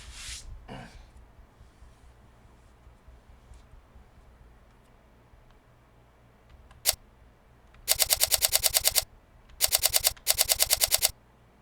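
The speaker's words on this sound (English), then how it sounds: "that walking sound is really loud" After a quiet stretch, loud, rapid clicking video game footsteps from a Unity Asset Store sound effect come in three harsh bursts, each a fast run of sharp, evenly spaced steps.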